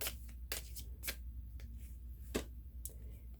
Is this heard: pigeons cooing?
no